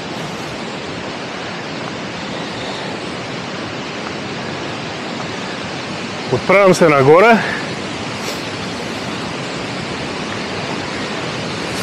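Steady broadband roar of the 85 m Bovska Skakla waterfall, running unbroken through the whole stretch, with a brief spoken line rising over it midway.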